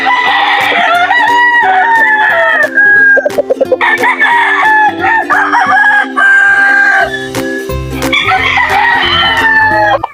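Tied-up native chickens and roosters crowing loudly and repeatedly at close range, long harmonic crows overlapping with clucks and scattered clatter, no talk.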